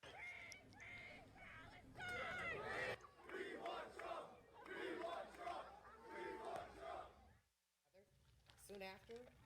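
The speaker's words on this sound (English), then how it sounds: "Soon after, a crowd of hundreds of counter-protesters showed up." Hundreds of counter-protesters shout and chant together at a demonstration, a loud and dense roar of voices that surges in waves, drops briefly to near silence, then picks up again.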